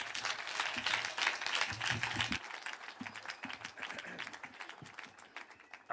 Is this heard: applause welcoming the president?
yes